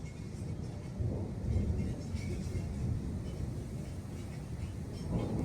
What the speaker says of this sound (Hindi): आसमान में जो है बहुत ही गरजने की आवाज़ सुनाई दे रही है